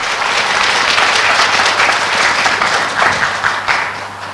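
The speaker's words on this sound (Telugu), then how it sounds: "గట్టి క్లాప్స్ కొడదాం" A crowd applauding at a vegetarian rally in Srikakulam, a dense, loud, sustained wash of hand clapping that holds steady for several seconds before easing slightly.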